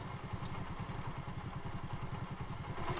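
A motorcycle engine rumbles in a steady low, rapid pulsing throbble, fairly quiet and continuous, with no voices over it.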